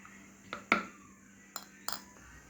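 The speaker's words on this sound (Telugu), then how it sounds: "ఇప్పుడైతే ఎగ్స్ కొట్టుకుందాం" Eggs beaten in a bowl make a few sharp clinks and taps, close and fairly quiet, over a faint steady background hum.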